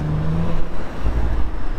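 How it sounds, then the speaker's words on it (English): A 2018 Audi S4 Avant's exhaust burbling while driving, heard from inside the car: low, uneven rumbling pulses under a steady engine drone, loud and close with no talking. "You get these sort of burbles."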